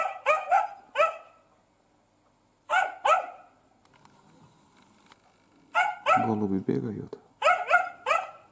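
A Laika dog barks at pigeons outdoors in loud, sharp bursts: a quick cluster, a lone pair, then another volley, while someone talks nearby.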